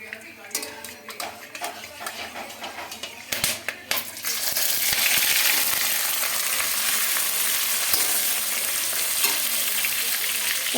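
Onions hit hot oil with cardamom and cloves for a mutton biryani, first with scattered clatters and stirring scrapes, then a loud, steady sizzle that fills the rest, up close with no talking.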